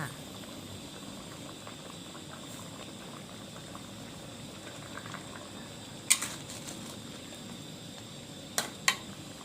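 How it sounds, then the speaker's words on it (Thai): Water boiling in a pot with pork ribs stewing for a southern Thai curry-paste stir-fry: a steady low bubbling wash throughout, with a few sharp clinks or taps near the end. "พอน้ำเดือดได้สักพักหนึ่งแล้วนะคะ"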